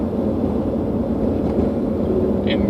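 Steady low rumble of a car interior while driving, constant road and engine noise filling the background with no voices.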